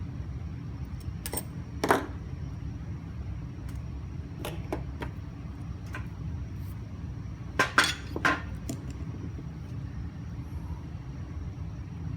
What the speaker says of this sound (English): right now I'm just kind of sweeping some of the smaller pieces of glass on the floor